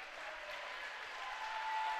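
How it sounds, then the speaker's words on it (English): Crowd ovation in a school gym during a girls' high school basketball game, a steady broad wash of clapping and cheering held at an even, moderate level throughout. "getting a nice ovation from the crowd"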